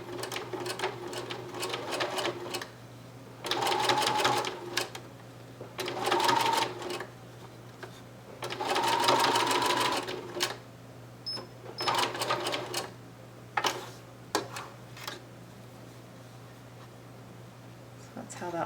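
A sewing machine stitches a short zigzag on doll slouch boots in several bursts of rapid whirring separated by pauses, with a steady low hum underneath and a voice talking at times.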